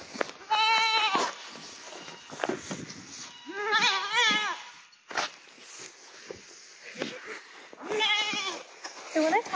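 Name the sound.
goats bleating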